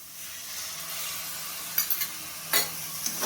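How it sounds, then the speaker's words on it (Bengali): Masala spices with garam masala sautéing in a pan over steady sizzling, a few scraping stirs of a utensil standing out near the end, close and fairly quiet. "এবার মশলাটাকে ভালোভাবে কষিয়ে নেব।"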